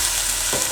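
Chicken pieces sizzle steadily in a hot frying pan over high heat for buckwheat soba noodles, with a brief scraping stir near the end; close and continuous, no talking.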